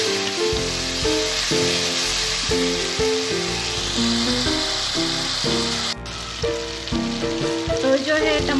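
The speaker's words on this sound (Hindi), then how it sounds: "तो अब टमाटर हमने इसमें ऐड करेंगे, अच्छे से मिक्स करेंगे और जो है टमाटर गलने तक हम अच्छे से पकाएंगे" Tomatoes cook and sizzle in masala for a lal lobia dish, a loud, constant frying hiss running throughout, with a short dip midway, while music plays over it.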